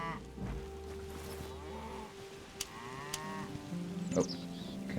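A cow in the Hytale video game moos in a long, low call near the start, followed by shorter game sounds and soft effects, with no talking.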